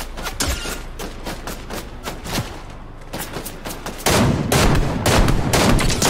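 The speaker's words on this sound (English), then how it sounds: "I'm being shot at." Rapid bursts of gunfire in the Fortnite video game during a battle, near and loud, with dense volleys that grow heavier and more sustained toward the end.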